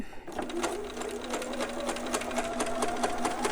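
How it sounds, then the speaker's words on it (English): A domestic sewing machine runs steadily, back stitching through fabric while sewing a newborn romper, its rapid even needle clatter close and continuous after a brief start. "I'm going to back stitch a little bit."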